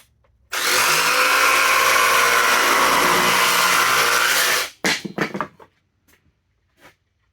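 A Milwaukee M18 cordless jigsaw cuts through pallet wood with a loud, steady, high-pitched buzzing for about four seconds. The blade then winds down, followed by a few scattered clunks and knocks.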